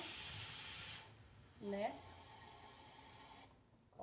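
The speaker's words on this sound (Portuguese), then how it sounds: "Coloca 500 ml de água na panela" Water pours steadily into a cooking pan for about a second, a bright rushing splash, then a short spoken word and a quieter room hiss with faint kitchen background.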